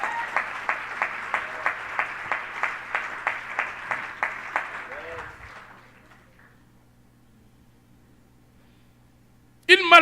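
A church congregation claps loudly in steady unison, about a dozen sharp rhythmic beats, then the applause fades to near silence before a brief loud burst at the very end.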